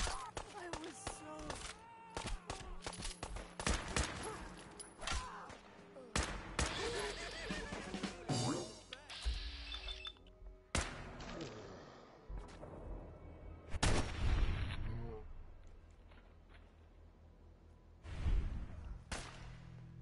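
Gunfire in the game Fallout 4, scattered sharp shots and thuds at uneven intervals, some close and loud, others fainter, with a player talking over them.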